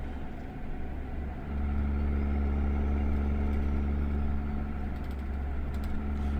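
Steady truck engine drone in American Truck Simulator driving the Australian Outback map, a loud continuous low rumble that swells and holds after a second or so, with no talking.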